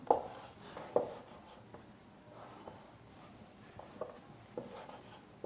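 Chalk or marker writing on a board during a chemistry lesson, soft scratchy strokes with a few sharper taps, faint and close, in otherwise quiet room tone.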